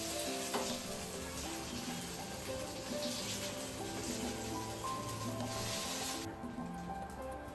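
Paneer tikka sizzling on a hot tawa, giving a dense, continuous close hiss and crackle that eases slightly toward the end, with no speech.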